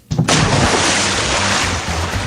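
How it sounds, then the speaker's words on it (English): A sudden loud splash of water that churns and rushes steadily, like a body plunging into a pool and the water surging afterward. "That's the sound of cool, refreshing water as you splash into your new radiant pool"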